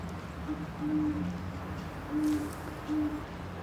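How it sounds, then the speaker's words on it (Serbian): An owl hoots at night outdoors in a spring evening setting, three or four low, steady hoots spaced apart over soft background ambience. "Čuješ sovu?"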